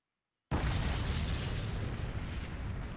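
A sudden, heavy explosion erupts after a brief silence, then a loud, rumbling roar carries on steadily to the end.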